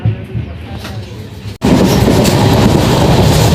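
Inside the moving 17610 Purna to Patna Express passenger train: a quieter rumbling opening gives way abruptly to a loud, steady, close roar of wheels and carriage noise.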